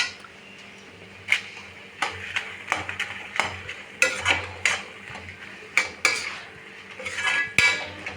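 Tomatoes and four dried red chillies being stirred in a pan for paneer butter masala, with a soft sizzle under repeated metallic spoon scrapes and clinks against the pan, close and fairly loud, no talking.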